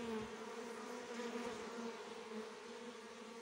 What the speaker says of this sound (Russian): Кто скажет мне, что за пчелки разные.